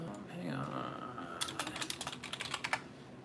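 Someone types rapidly on a computer keyboard during a live stream, a quick run of close, crisp key clicks that starts partway in and continues steadily, following a short stretch of room noise.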